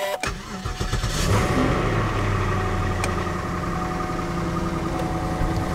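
A 2004 car's engine cranks and catches, then settles into a steady, loud idle close by, with a brief rev at the start and no voices.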